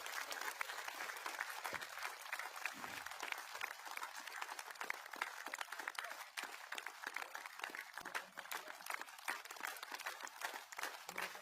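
Steady, dense applause fills a hall as an audience at a Golden Jubilee Snehmilan gathering honours Ranjanben Patel, many hands clapping continuously and evenly for about eleven seconds with no voices standing out.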